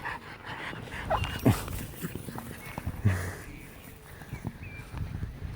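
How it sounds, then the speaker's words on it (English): Out in the rain, a dog plays with a ball, giving a few short whimpers and snuffling noises close by with scuffing movement, against a soft wet background. "She's fantastic, that dog."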